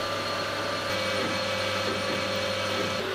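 Steady machine whir with a constant hum and a broadband hiss of cutting as a lathe faces and turns the outside of a steel part, running on without pause.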